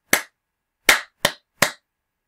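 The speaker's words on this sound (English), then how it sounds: "If I just clap that" Four sharp hand claps in a music lesson, spaced irregularly to mark a rhythm with rests: one clap, a pause, then three in quicker succession, crisp and close with silence between.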